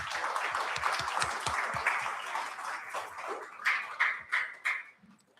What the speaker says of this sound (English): Just give yourselves another round of applause for all that support.